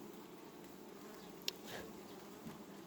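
Honey bees hover close around a hive during queen introduction, giving a low steady buzz. A few louder passes flit briefly near the listener.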